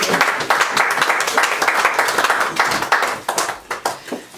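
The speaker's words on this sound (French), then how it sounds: "Acclamez pour Jésus." A church congregation claps together in a Paris service, a dense run of handclaps that thins into scattered, separate claps toward the end.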